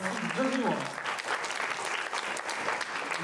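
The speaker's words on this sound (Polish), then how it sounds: "Wielkie brawa." Audience applause for a school performance at a military and patriotic song contest final, steady clapping from a crowd with a brief voice over it near the start, fairly faint and continuous throughout.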